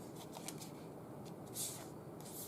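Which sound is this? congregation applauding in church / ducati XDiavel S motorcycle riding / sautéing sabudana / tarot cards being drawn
tarot cards being drawn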